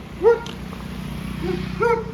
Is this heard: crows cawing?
no